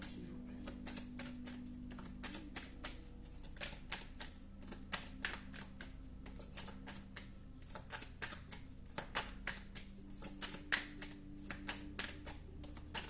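Tarot cards being shuffled and drawn by hand, a steady run of quick riffling clicks and flutters close up, continuous and fairly quiet with a faint hum beneath.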